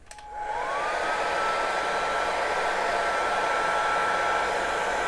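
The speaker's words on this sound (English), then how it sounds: "we're going to take our heat gun here" A heat gun starts up and blows hot air onto heat shrink tubing during an arcade lighting installation, a steady loud whooshing roar with a faint tonal whine that holds evenly to the end.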